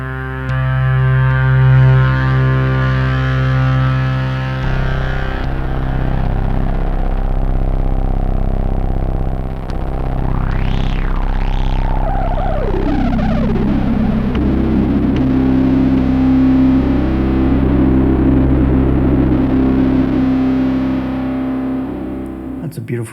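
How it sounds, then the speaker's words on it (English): Synth tone run through the saturation of a Boss RE-202 Space Echo, a thick, steady, gritty sound with a sweeping pitch glide in the middle and sustained harmonics, loud and continuous. "Saturation. It's very nice."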